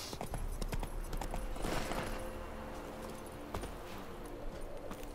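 Steady clip-clop of horse hooves trotting in the video game The Witcher 3: Wild Hunt, with a constant background hum and a few faint clinks; no one speaks.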